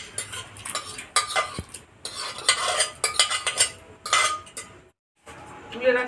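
A spoon scrapes and clinks in a pot as pressure-cooked arhar dal is stirred into partly boiled moong dal for vegetarian bhog khichuri. The rhythmic scrapes come close and in bursts, with a short silent gap near the end.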